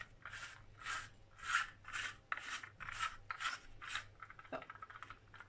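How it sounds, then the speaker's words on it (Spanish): Sugar being sprinkled over an egg liqueur cake gives about nine soft, evenly spaced raspy shakes, close and quiet, with no talking. "Ahora le vamos a echar un poquito de azúcar por encima."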